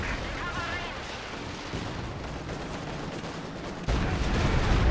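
Stuka dive-bomber artillery barrage in the WWII strategy game Company of Heroes 2, a dense continuous rumble of shell blasts and crackling fire that swells with a heavy thump near the end, loud and unbroken.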